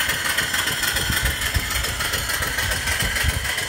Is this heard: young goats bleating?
no